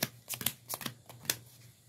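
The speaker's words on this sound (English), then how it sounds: "hey, can I shuffle again?" Trading-game playing cards are shuffled up close in quick bursts of dry, papery riffles and taps, with uneven rhythm and no voices.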